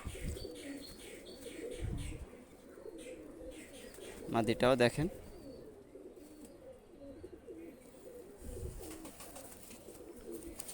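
Pakistani high flyer pigeons coo softly in a brief, rolling burst midway, while someone talks over the faint background bird noise.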